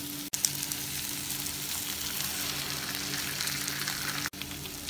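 Ground coconut paste sizzles in a pan of frying masala for Kumbakonam kadappa, a steady close hiss with a couple of brief clicks and no talk.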